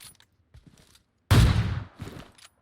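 Gunfire in PUBG Mobile, one loud close shot with a decaying burst that stands out among quieter clicks and mechanical handling noises and a few faint scattered sounds.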